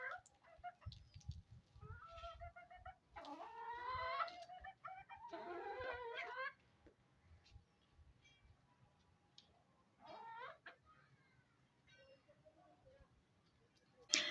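Chickens cluck in short bursts nearby, with quiet stretches in between and faint background noise.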